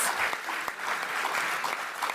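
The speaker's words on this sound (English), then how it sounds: "can we please give a beautiful round of applause" Audience applause for the panelists at the close of a session on sorghum for food and nutritional security in Southern Africa, a steady, dense round of clapping lasting about two seconds without a break.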